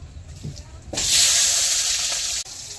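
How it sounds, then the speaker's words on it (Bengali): Chopped tomatoes drop into hot oil tempered with cinnamon, bay leaf and cumin for a Bengali crab and cabbage dish, setting off a loud, steady sizzle that holds for about a second and a half before cutting out. "ফোড়ন দেওয়া তেলে এবার দেবো টমেটো কুচি"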